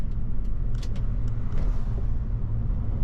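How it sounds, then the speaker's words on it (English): A car running a rebuilt Ford 5.4L 3V engine is being driven, giving a steady, low engine and road rumble throughout with a few faint higher clicks, close and continuous. "So I'm just going to drive it around for maybe 10-15 minutes."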